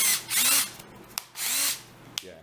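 A power drill mixing green resin in a cup at slow speed, running in two steady bursts of whirring with brief clicks and pauses between them, fairly close and alone without voices.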